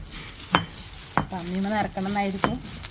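Chutney is ground on a traditional stone grinder, with sharp stone knocks and longer rubbing, scraping strokes between them, close and moderately loud.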